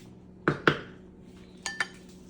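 A spoon knocks against a cooking pot while pork mechado is stirred, four metallic clinks in two pairs, close and clear over a quiet simmer.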